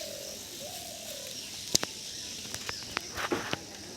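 Male and female pigeons of an old Murshidabad breed make a soft, low coo early on, followed by scattered faint rustles and small bumps in a quiet room.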